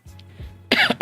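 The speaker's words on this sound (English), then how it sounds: "there's the cough" A person gives a couple of short, sharp coughs close to the microphone after a moment of quiet throat noise, the bursts loud and abrupt.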